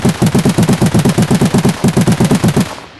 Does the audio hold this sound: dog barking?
no